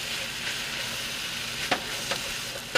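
A hot dog is stirred into a sizzling frying pan, producing a continuous loud frying hiss with a few crisp scraping taps from the utensil.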